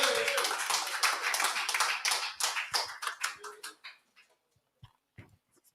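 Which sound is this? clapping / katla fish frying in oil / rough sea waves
clapping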